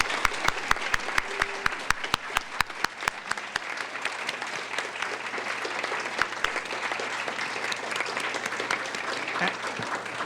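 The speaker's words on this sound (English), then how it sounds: "I think we should all give them a round of applause" Audience applause for city council and mayoral candidates at a Morro Bay candidates forum, a steady crowd of clapping with sharp, rhythmic close claps repeating through the first half and a faint hum underneath.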